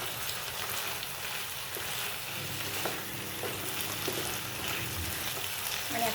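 Malvani-style raw banana curry with salt and lime juice being stirred in a pan, a continuous moderate hiss and crackle with faint utensil scrapes, no talk.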